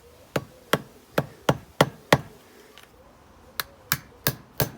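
A big hammer strikes a car part on an ST170 restoration in sharp, evenly spaced metallic blows, about ten loud hits close up with a short pause midway.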